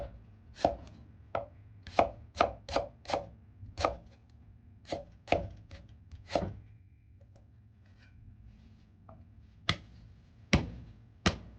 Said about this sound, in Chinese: 生姜改刀切成厚块